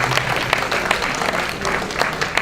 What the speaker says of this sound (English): I'd like to start off by inviting the audience to give them a round of applause